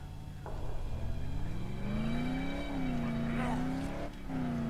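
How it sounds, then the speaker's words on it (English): Engine of a car driven in Dead Island rises and holds a steady droning pitch, with shifting revs and a brief dip near the end; a voice speaks faintly beneath the motor. "I just started driving."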